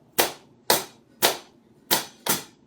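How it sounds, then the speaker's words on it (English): Five sharp, close hand claps beat out a 3-2 clave pattern in a percussion lesson: three evenly spaced claps, a pause, then two quicker ones, each crisp and alone in a quiet room. "Everybody clap."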